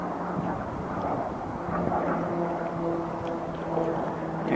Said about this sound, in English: Now you're hearing jet airplanes, of course, overhead